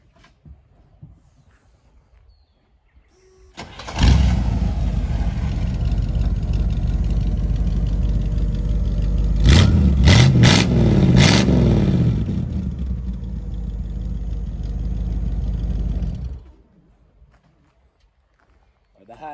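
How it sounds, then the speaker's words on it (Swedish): A Ferrari 348 V8 cranks and fires, then holds a loud, close rumbling idle with several sharp revs in the middle before cutting off, with brief quiet before and after. "Jag tänker att vi drar väl igång bilen så att ni får höra hur den låter."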